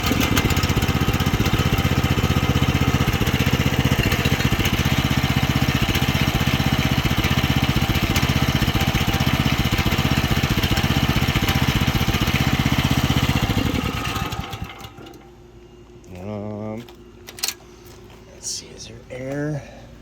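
A Chinese mini excavator's small engine runs steadily and loudly for about fourteen seconds, then cuts out, leaving quiet handling noises and brief speech afterward.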